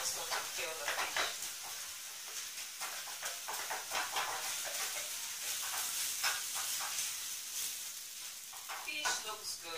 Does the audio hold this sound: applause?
no